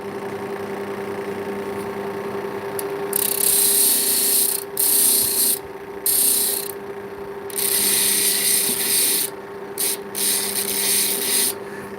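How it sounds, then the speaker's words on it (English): Opal stone rubbed on coarse, harsh sandpaper in light, intermittent passes, giving bursts of close, gritty scraping separated by short pauses, with a steady background hum and no talking. "Now I'm hitting it really lightly here because this is brutal sandpaper."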